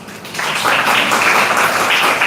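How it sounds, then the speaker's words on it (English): A hall audience at a teacher-education college ceremony breaks into applause, rising quickly into a loud, even wash of many hands clapping together. "May we acknowledge this proud moment with a warm round of applause."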